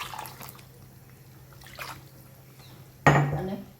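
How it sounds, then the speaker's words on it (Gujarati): Water is poured into a cooking pan partway through preparing a dish: quiet kitchen room tone with a low steady hum, a couple of faint clinks, then a sudden splashing sizzle as the liquid hits the hot pan near the end. "સહેજ પાણી એડ કરીએ"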